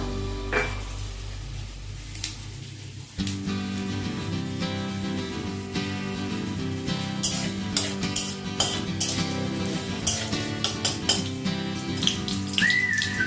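Two dried red chillies fry in hot oil for a Bengali-style shafla dish, giving a steady close sizzle with light clinks of a pan and utensils over soft melodic background music.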